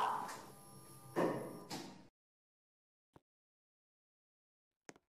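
Elevator doors in a Roblox mall slide shut with a brief whooshing glide lasting about two seconds, followed by silence and two faint, sharp clicks or thuds; no speech is heard.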